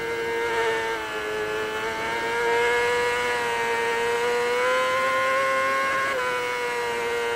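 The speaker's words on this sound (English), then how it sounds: "listen to that engine revving out and reaching its maximum revs in each gear" A high-pitched 600cc racing motorcycle engine at the Isle of Man TT, heard on-bike, held at high revs, whining steadily with slight pitch shifts, loud and continuous.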